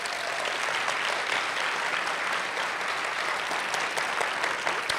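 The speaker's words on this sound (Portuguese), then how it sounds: "Dê um aplauso para Jesus." A church youth gathering's congregation bursts into sustained applause for Jesus, a dense, loud wash of many hands clapping steadily for the full length with no voices on top.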